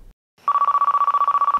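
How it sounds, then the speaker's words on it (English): An old brick-style mobile phone rings after a short silence, its electronic tone pulsing in a fast, even warble, loud and close with nothing else around it. "And there it is, the first real mobile phone"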